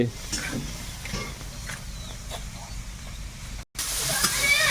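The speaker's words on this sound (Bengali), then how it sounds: "চিংড়িটা দিয়ে ভালো করে ভেজে নিয়েছি" Prawns fry in a pan in a Sundarbans home kitchen, a steady close sizzle with occasional stirring scrapes, briefly cutting out before resuming louder.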